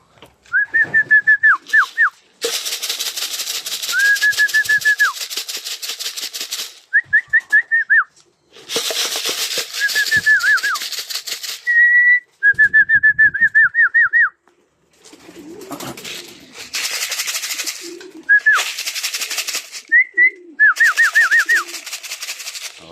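Racing pigeons arriving at a loft in Balagtas, Bulacan, with repeated bird calls and whistling phrases in loud bursts over about twenty seconds, separated by brief pauses and a few soft flutters, with no talk.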